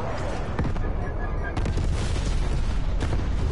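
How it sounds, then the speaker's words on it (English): An RPG rocket explosion strikes the player in Call of Duty: Black Ops Cold War on PS4, heavy booming blasts and gunfire-like bursts that stay loud and continuous through a chaotic firefight. "I got hit by a missile launcher. Wait, what the fuck hit me? Oh, that was an RPG."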